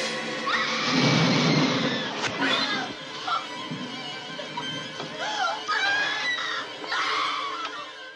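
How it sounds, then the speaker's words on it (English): A woman lets out a loud, sustained horror-film scream, the kind heard in the summer camp slasher Friday the 13th. It rises and wavers in pitch in several drawn-out shrieks with a harsh, strained edge. "The secret of a great scream is being able to go from the diaphragm and just really let one out."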